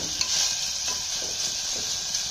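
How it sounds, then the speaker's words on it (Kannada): Chopped capsicum frying in a pan, a constant close sizzle with soft stirring scrapes of a spoon recurring through it, no voices. "ಇವಾಗ ಕ್ಯಾಪ್ಸಿಕಮ್ ಹಾಕೋಣ. ಇದೊಂದು 2 ಮಿನಿಟ್ಸ್ ಚೆನ್ನಾಗಿ ಫ್ರೈ ಆಗಲಿ."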